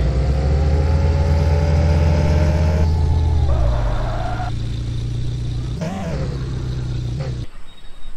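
An old-model super car fitted with a racing kit, in Car For Sale Simulator, revs loudly up close. Its engine note sweeps and drops through several shifts before a roaring burst and a fading idle.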